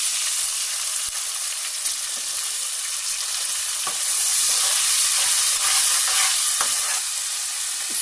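Tomatoes, green chillies and ginger garlic paste fry in a pan with a loud, steady sizzle and bubbling hiss, stirred now and then with soft scrapes.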